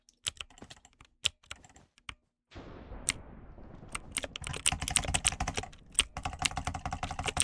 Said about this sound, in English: y'all probably can't even hear me because of how loud this keyboard is